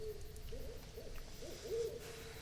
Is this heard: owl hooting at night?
yes